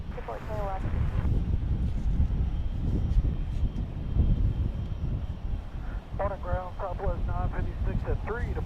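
Aircraft arriving at Dallas Love Field, a steady low engine roar heard from a distance under wind, while people talk intermittently over it.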